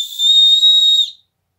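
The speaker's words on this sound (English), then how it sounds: "Standard whistle, nothing really special there, but it does work" A single shrill blast from a paracord survival bracelet whistle, loud and steady, lasting about a second before cutting off into silence.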